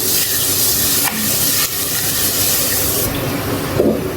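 Macaroni masala being stirred in a pan just after a cup of water is added, a continuous close sizzle with scraping and splashing bursts and a brief pause midway.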